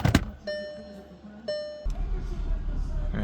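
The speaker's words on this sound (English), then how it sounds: "Alright, the car is running." A 2012 VW Passat with its engine running after an ignition replacement. A low, steady idle rumble settles in after a brief electric-window whine and a thump, close by, with no talk.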